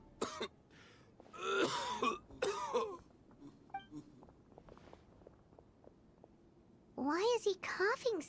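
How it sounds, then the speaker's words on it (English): A character in Genshin Impact coughs and clears his throat repeatedly in short fits, with footsteps and other voices around the coughing. "Why is he coughing so much?"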